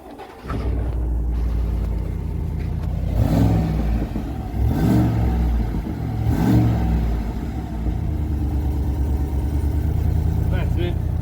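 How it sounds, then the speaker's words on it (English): A Walkinshaw Silverado 1500 with standard exhaust starts up and settles into a deep, steady idle, then revs three times in quick swells before dropping back. Heard up close. "The standard exhaust is on there now. I'll just start it up."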